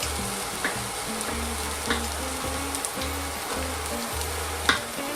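A mixture for andouillette-stuffed potatoes sautéing gently in a pan, a soft steady frying hiss with occasional light pops and faint stirring throughout.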